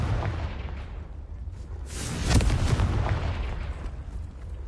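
Blasting-spell explosion in Hogwarts Legacy, a deep rumbling boom swelling around the middle of the clip over a continuous low roar, loud and close, with no voices.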